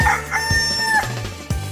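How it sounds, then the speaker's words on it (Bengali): A frightened hen clucks loudly, a few harsh, drawn-out squawking calls in quick succession, close and alone with no voices over them. "মুরগিটি ভয় পেয়ে খুব জোরে জোরে ডাকতে লাগলো।"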